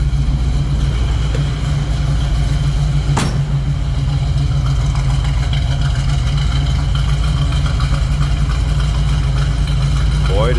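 A 1967 Pontiac Firebird coupe with a 5-speed idles in neutral. Its steady, loud, low rumble runs close throughout, with a sharp click early on and a voice talking over it.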